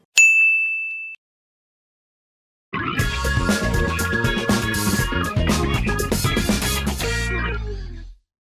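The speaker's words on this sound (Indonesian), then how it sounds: "nyalakan lonceng notifikasinya" A bright notification bell dings once, clear and close, then rings out briefly before silence gives way to a loud burst of layered music.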